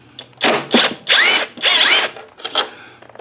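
A power drill whirs in several short bursts, spinning bolts out of the carburetor on a Honda HRR2156 push mower that will not start or run, close and loud with no talking.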